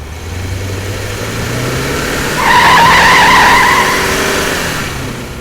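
A car skids with a sustained high tire screech rising out of steady engine and road noise midway through, loud and close, then fading; no impact is audible.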